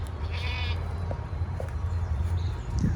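Goats bleat while stripping a tree in a flood-damaged area. One or two short, faint bleats sound over steady low background rumble, with no talk.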